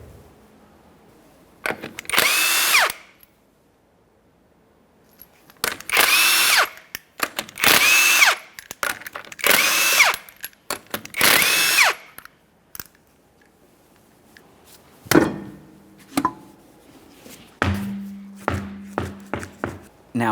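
A power tool spins off the five 21mm lug nuts from a Toyota Sienna rear wheel, loud close bursts of impact-wrench rattling separated by pauses, followed by metallic clanks and handling knocks.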